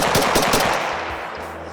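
A semi-automatic AK-47 rifle fired rapidly, a quick string of sharp, loud cracks in fast rhythm, close and alone, trailing into echo.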